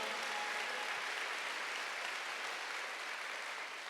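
Church congregation applauding during a Wednesday worship service, a steady dense wash of clapping that holds at an even level for several seconds before easing slightly at the end.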